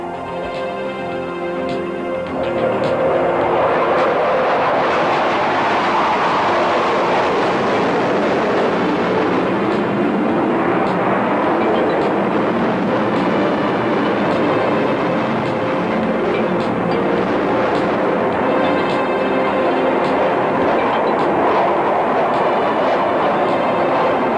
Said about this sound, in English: Once you see the smoke disappear from the tailpipes, you'll see the afterburners are lit.